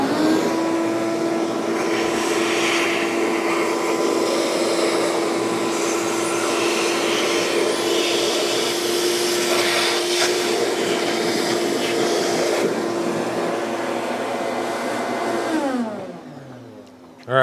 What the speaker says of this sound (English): I'm going to take the vacuum cleaner after it a little bit